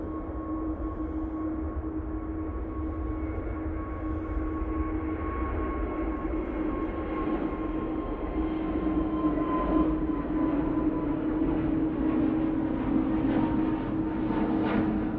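A jet airliner departing Manchester Airport on a breezy day, its engines a steady, loud broadband roar with a sustained whine that holds and swells slightly as it climbs away, with no voices.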